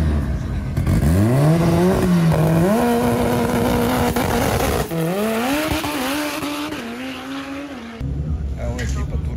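Black BMW drag car, one of Romania's fastest, launching down a 402-metre drag strip, its engine climbing through several loud rising gear pulls with shifts between them, roaring close and continuous for several seconds, a voice talking faintly underneath.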